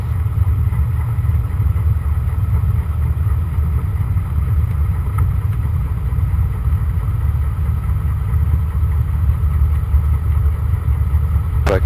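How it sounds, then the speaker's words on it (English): A Cessna light aircraft engine at takeoff power drones steadily and loudly for about twelve seconds, a dense continuous low roar with no talk over it. "The takeoff brief is we're going to take off runway 33"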